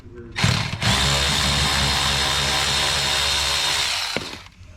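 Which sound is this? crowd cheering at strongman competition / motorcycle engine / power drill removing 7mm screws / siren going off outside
power drill removing 7mm screws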